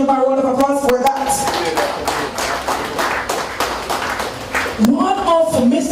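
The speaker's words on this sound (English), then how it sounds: "Can we give him a round of applause for that?" Audience applause at an award ceremony honoring a retiring father, a few seconds of steady clapping that swells and fades while a speaker's voice carries over it.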